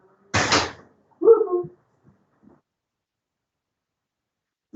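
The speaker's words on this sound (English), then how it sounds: "I'm just going to close the doors real quick." Doors swing shut in a quiet room, one sharp thump followed by a brief creaking squeal, then faint small knocks.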